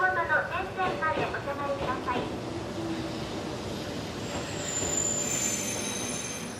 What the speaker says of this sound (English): a spotless train arrives at a spotless platform, spot on time